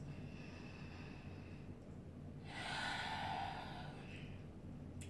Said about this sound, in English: Give me two more breaths